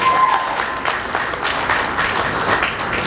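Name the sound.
audience applauding Toastmaster Tony Acri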